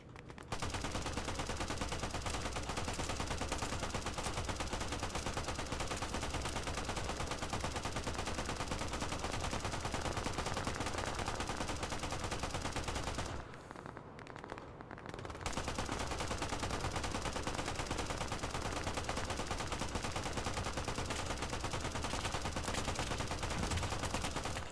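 Sustained automatic gunfire on an Omaha beach battle in Operation: Harsh Doorstop, a dense, loud fusillade of overlapping shots that drops out briefly midway and then resumes just as heavily.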